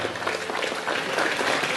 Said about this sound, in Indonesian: Nah, tepuk tangan, tepuk tangan.